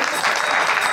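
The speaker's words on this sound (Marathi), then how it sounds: "यांच्यासाठी टाळ्या वाजायचा" An audience at a Marathi religious discourse at a Hanuman temple claps together, a thick burst of steady applause, loud and near throughout the moment.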